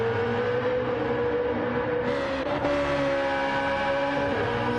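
A BMW Z4 GT2 race car engine in the Gran Turismo video game at Deep Forest Reverse, holding a loud, steady high-revving drone that shifts pitch briefly midway, with no voices.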